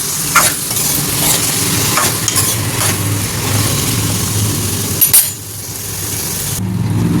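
Capsicum, carrot and tomato curry with onions fries in a pan, a close, steady sizzle with occasional stirring scrapes and clatters and no voices.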